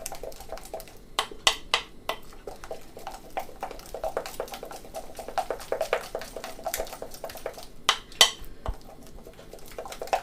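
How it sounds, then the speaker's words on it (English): Pancake batter for organic blueberry pancakes is beaten briskly in a bowl, giving a steady run of quick clinks and taps of the whisk or spoon against the bowl's sides. The strokes come close and moderately loud, with no talking. "It is important to mix rather briskly, and that's to introduce some air into the mixture"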